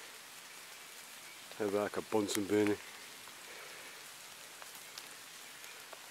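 Heavy rain pours outdoors beside a fire with a steady, dense hiss throughout, and someone speaks briefly over it partway through.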